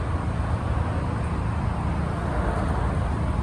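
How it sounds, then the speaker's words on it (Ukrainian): A 2011 Ford Focus with a 1.4 petrol engine and manual gearbox idles steadily, giving a continuous low rumble with even broadband noise and no talk over it. "двигун просто працює"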